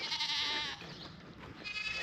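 A dairy goat named Stormy bleats loudly and insistently up close, a long wavering call followed by a second shorter bleat, alone without talk.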